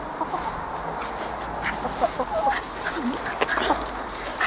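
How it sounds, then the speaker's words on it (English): Farmyard chickens clucking in short scattered calls, mixed with a dog's whimpers and barks at moderate distance over a steady outdoor background. "Hello, chickens."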